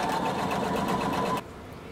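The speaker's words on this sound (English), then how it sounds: "we're going to sew all the way across the neck" Sewing machine stitching across the neck seam of a blazer, a fast steady whirring buzz lasting about a second and a half before stopping abruptly.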